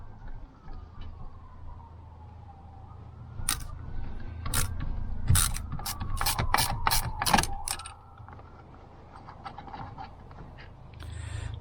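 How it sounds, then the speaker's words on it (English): A ratchet clicks in quick bursts while backing out two T30 Torx fasteners on the rear seat of a Ford F-Series pickup, a close, rapid pawl chatter in the middle with quieter handling around it. "we're going to go ahead and remove these two T30 Torx bit."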